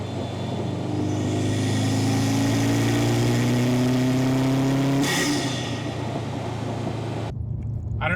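A Subaru WRX STI engine with a COBB carbon fiber intake revs up close, recorded from the engine bay, its tone climbing steadily to a high pitch before dropping off, then the sound cuts out abruptly.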